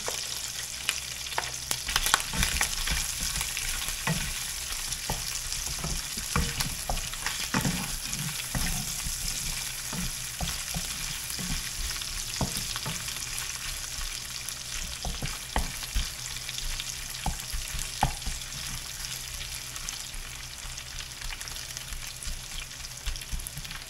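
Garlic frying in a pan for a squash and pork belly sauté, a steady close sizzle that runs throughout, broken by frequent clicks and scrapes of stirring.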